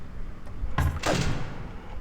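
A door struck by an animatronic in the video game Ultimate Custom Night, heard as a sharp bang followed by a second heavy thud and rattling resonance, loud against quiet background hum.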